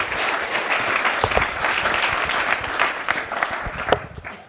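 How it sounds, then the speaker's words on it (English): Warm audience applause at a live show for a running event, a steady wash of many hands clapping close by, with a few louder claps near the end as it begins to fade. "please, everyone, give Jess a warm round of applause"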